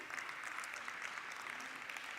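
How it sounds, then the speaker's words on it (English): A conference audience at a high-level panel session claps steadily and evenly throughout, a soft, continuous patter of applause with no voices over it. "let's give him a round of applause to encourage him."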